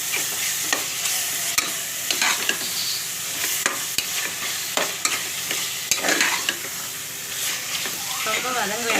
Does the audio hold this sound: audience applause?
no